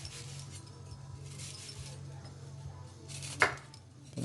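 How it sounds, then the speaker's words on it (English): A knife slices food on a cutting board in quiet, repeated light taps, ending with one sharper chop, under a low hum with faint talk in the background. "So you're going to cross the slices and then turn them and slice."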